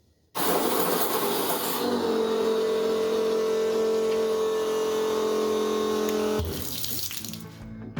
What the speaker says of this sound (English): If I touch this here, we should get fuel pump action.